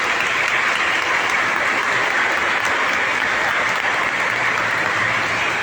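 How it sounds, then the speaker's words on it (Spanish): Sustained applause from a church congregation for the children, a dense, steady wash of many hands clapping at once, loud and continuous throughout with no voices standing out. "vamos a darles a todos estos niños un fuerte aplauso"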